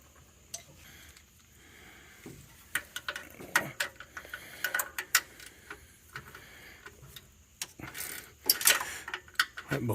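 A wrench working a bolt on a 1976 Ford F-150, heard as scattered metallic ticks and ratcheting clicks with short bursts of louder clatter, close by and uneven in rhythm.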